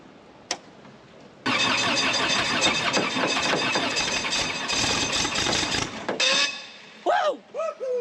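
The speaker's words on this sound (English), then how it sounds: "Kill both fuel pumps and then try to start it again" A Rotorway helicopter engine, fuel pumps switched off after possible flooding, cranks and catches with a sudden loud start, then runs rough and steady for several seconds before dropping away, followed by brief excited voices.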